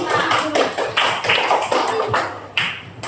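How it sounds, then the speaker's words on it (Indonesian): Applause from a class of students for a student group, dense patter of many hands clapping at close range, swelling in several waves across the span with no talking. "Tepuk tangan untuk kelompok"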